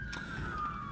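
A faint ambulance siren wails in the distance, a single sustained tone drifting slightly lower, heard only briefly.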